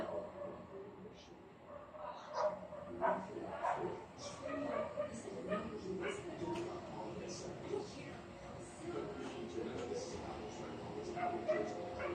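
A dog barks and whimpers repeatedly at a distance, its yips and whines mixed with voices and busy background noise.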